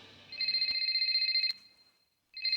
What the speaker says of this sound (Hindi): हे केन, ये उसी का फोन है